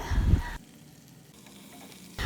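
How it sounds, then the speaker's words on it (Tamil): Radish, onion and tomato sautéing in a pan for a chutney, with a loud burst of frying and stirring at the start and end and a softer, steady sizzle between, no talking. "நம்ம சேர்த்துருக்கிற முள்ளங்கி வெங்காயம் தக்காளி நல்லா வதங்கட்டும்"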